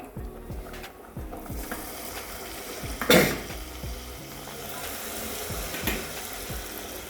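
Steady low sizzle of ingredients frying in a pan for shavige payasa, with soft scraping and stirring and one brief louder clatter of a utensil against the pan midway.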